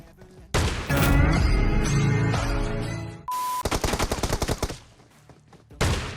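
Pump-action shotgun blasts in a shooter video game: loud, booming shots and a quick run of sharp bursts fill the clip over game sounds, with a short electronic beep midway and one last shot at the end.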